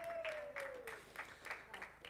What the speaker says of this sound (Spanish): No sé si es porque están en butaca que aplauden así medio suavecito.